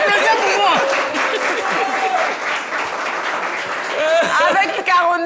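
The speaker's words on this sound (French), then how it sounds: "Applaudissez pour moi." A studio audience at a Christmas special television show applauds while a presenter's voice carries clearly over the clapping, which swells again toward the end.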